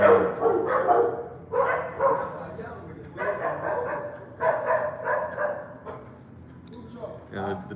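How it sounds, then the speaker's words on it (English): Several dogs bark and yip excitedly in rapid bursts nearby, almost continuous through the clip, with people talking underneath in a city setting in Panama. "the dogs are going crazy"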